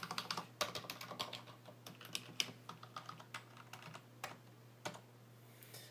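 Typing on a stock IBM Model KB8923 keyboard with lubed stabilizers and main keys: a steady run of close, crisp keystroke clicks at an irregular pace over a faint electrical hum, with no talking.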